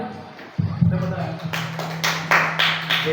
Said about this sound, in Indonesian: tepuk tangan untuk Pak Dayat